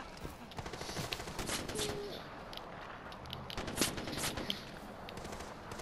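Gunfire in the video game Far Cry 4: scattered sharp shots and short bursts crack irregularly at low volume over a noisy in-game background.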